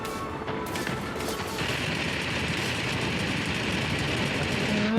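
Rapid aircraft cannon fire from a World of Warplanes air battle, a dense continuous rattle of shots over a steady engine drone, loud and close throughout.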